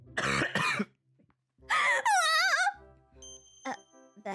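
A couple of sharp coughs, then a longer coughing fit with a strained, wheezy voice, followed by a faint chime and a brief final cough.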